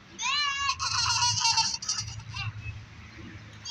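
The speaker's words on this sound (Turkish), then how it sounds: "Bak bak yukarıya. Keçi işte." High, wavering bleats from a wild-looking horned goat climbing rocks at a zoo repeat in quick succession over a low rumble of background noise, fairly close and loud.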